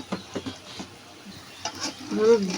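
Green chili, onion and garlic frying in a pan, a low sizzle broken by several utensil scrapes and taps, with a brief voice near the end.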